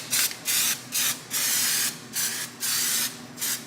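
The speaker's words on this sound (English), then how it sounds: "I'm gonna use copper grease." Copper grease sprayed from an aerosol can onto a Volvo front brake hub before a new rotor goes on, heard as six or seven short, loud hissing bursts in an uneven rhythm with brief pauses between them, close up and with no talk.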